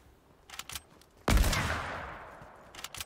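One loud, booming gunshot from the video game Fortnite cracks out and rings off in a long decaying tail. Faint clicks and taps come before and after it.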